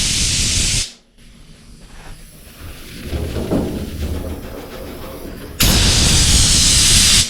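Compressed air hisses from an air hose in a body shop, a loud broadband blast at the start, a quieter noisy stretch in between, then another strong burst near the end, close to the mic.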